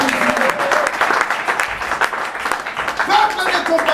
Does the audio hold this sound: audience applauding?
yes